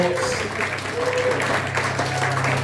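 Applause for the contestants at the World Pudding Championships, a short wash of crowd clapping at moderate distance with a voice talking over it.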